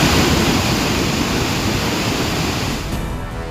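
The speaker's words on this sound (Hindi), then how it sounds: "तुतला भवानी वाटरफॉल में दिखा रौद्र रूप, झरने का पानी हुआ काफी तेज" Tutla Bhawani waterfall in Rohtas roaring after heavy monsoon rain, a loud dense wash of rushing water that fills the whole stretch, easing slightly near the end.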